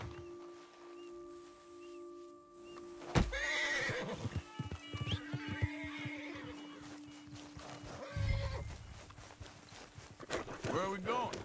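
A horse in the video game Red Dead Redemption 2 whinnies and clip-clops along, hooves thudding in bursts over a quiet background with faint game ambience.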